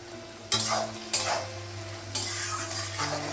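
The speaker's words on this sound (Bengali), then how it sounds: "পেঁয়াজটা আর আলুটা একটু ভেজে নেবো" Onion and potato fry in a pan with a close, bright sizzle, broken by a few scraping stirs that each send up a fresh burst of hissing, and nobody talks.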